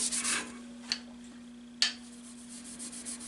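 A cloth rubs embellishing wax into the open grain of an ebonized, textured woodturning, giving soft close scrubbing strokes with two brief sharper ticks, over a steady low hum.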